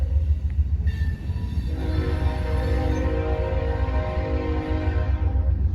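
A heavy CSX freight train rolls past at a railroad center in Mulberry, Florida, sounding a loud, sustained multi-tone horn over the rumble and clatter of wagons close by.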